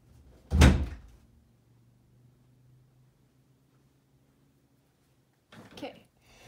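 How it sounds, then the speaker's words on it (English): A bedroom door shuts with a single solid thud close by, followed by quiet and then a softer knock or click a few seconds later. "close my door."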